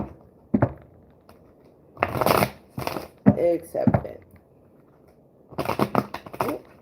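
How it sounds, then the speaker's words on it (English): Tarot cards are shuffled in quick papery bursts, several riffles and flicks spread between stretches of someone talking nearby. "And that was a nasty shuffle."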